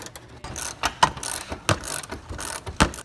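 A ratchet wrench with a 12mm socket clicks in short bursts while backing out front bumper bolts on a Gen 3 Toyota 4Runner, close and crisp with brief pauses between strokes.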